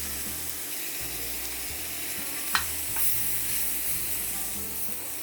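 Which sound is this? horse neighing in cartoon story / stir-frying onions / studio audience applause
stir-frying onions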